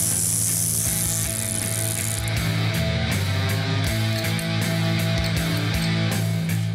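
A ratchet tightens an axle nut, giving a continuous run of close mechanical clicking and grinding with a steady rhythm throughout, no talking.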